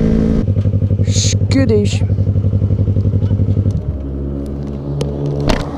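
A motorcycle ridden after a Ducati rumbles steadily with a throbbing engine note, then the revs drop back to a lower idle-like hum, loud and close, with a voice talking briefly over it.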